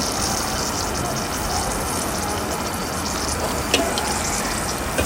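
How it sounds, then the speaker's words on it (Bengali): Onions frying in oil in a home kitchen, a steady, dense hiss of sizzling that stays loud and even throughout without a break. "প্রথমে আমি তেলে পেঁয়াজগুলো সুন্দর করে ভেজে নেব।"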